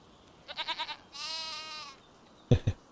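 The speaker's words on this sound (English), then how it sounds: "The sheep and goats are still active." Sheep and goats bleat on a farm at night: a quavering animal cry, then a longer drawn-out bleat, followed by two short, loud calls close by, over a quiet background.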